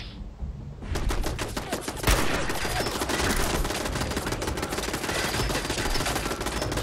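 Rapid gunfire in Fallout 4 aimed at a distant turret, starting after a brief quieter moment and then rattling continuously in loud, closely spaced shots.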